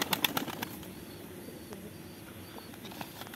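Pigeons' wings flap in a burst of clattering beats at the start, then fade into a steady rustle of birds moving about nearby.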